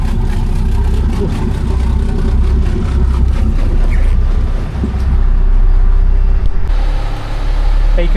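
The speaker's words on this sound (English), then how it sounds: "whilst the engines are warming up" Steady low rumble of Volvo TAMD 61A marine diesel engines warming up on a boat, idling continuously with a loud, even drone, while faint voices are heard intermittently over it.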